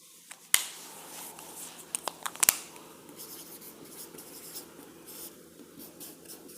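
Chalk or marker scratching across a classroom board during a physics lesson, with a few sharp taps and strokes early on, then a steady soft scraping that goes on alone with no talk.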